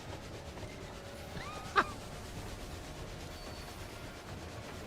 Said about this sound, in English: It's this train. It's the Phantom train.